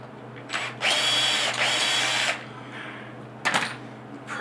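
A handheld power drill with a countersink bit works screw holes in a broken chair, whining in two short bursts of about a second each, then stopping. A brief third whir follows after a pause. Close and loud, with no talking.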